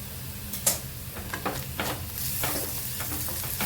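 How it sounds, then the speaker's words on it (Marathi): Ginger garlic paste and green chilli sautéing in hot oil with browned onion for a capsicum curry, a steady sizzle broken by several short scraping and stirring knocks. "तेला छान परतून घे"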